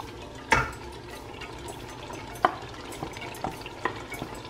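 Blended egusi going into a pot of stew and being stirred, with a few soft wet spoon scrapes and plops over a faint simmering background, no talking.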